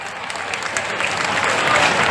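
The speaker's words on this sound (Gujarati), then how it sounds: "તાળીઓ પાડજો એકવાર" An audience at a community trust gathering breaks into applause, a dense clapping that swells steadily louder, with a few voices mixed in.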